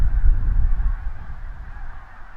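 Wild migratory geese on Goose Island, heard as a steady, fairly close low flock clamour with overlapping honks; no talk.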